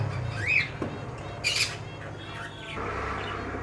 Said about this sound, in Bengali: এটা একটা গিরিবাস পায়রা আছে